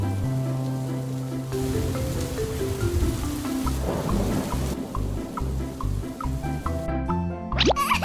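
Rain and thunder in a 2D animated cartoon, steady rainfall under a low rumbling thunder with a bright musical score and soft plopping drops throughout.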